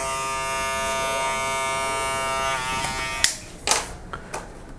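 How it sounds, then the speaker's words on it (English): An electric hair clipper buzzes steadily and close up while cutting hair for a burst fade haircut, then gives way to a few sharp taps and clicks near the end. "I need to grab the clipper that I previously went to make sure that I didn't miss any hairs"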